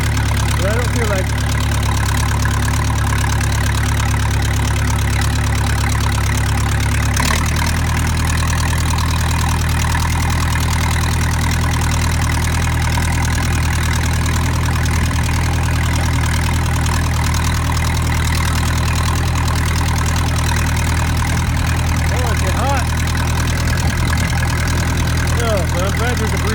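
A steady tractor engine idles and rumbles throughout while disking weeds in a pasture, a low mechanical drone that shifts slightly in tone partway through, with no talking over it.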